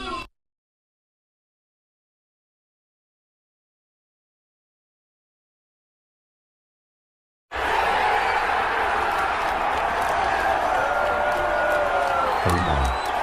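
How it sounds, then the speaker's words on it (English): A crowd cheers near a court, erupting loudly after a long stretch of silence and holding as a dense, steady roar of voices and whoops to the end. "They're cheering for me."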